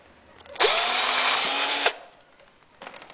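Power drill bores a hole through the neck of a PET plastic bottle, a single loud whirring burst lasting just over a second that starts and stops sharply against a quiet room.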